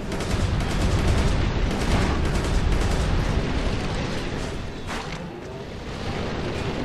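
Dense, continuous gunfire and explosions from the shooter game Resistance 2 during a ship battle, loud and sustained for several seconds, a chaotic wash of rapid shots and booms with no pauses.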